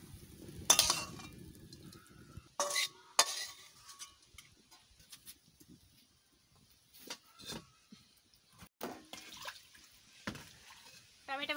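Cooked egg, potato and tomato curry is scooped from a pan into a bowl, with scattered close clinks and scrapes of a utensil between quiet stretches, a voice speaking softly over part of it.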